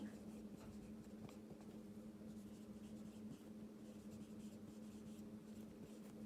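Pen writing on paper during a math solution, a soft continuous scratching that is quiet and close under a steady low background hum, with no talk.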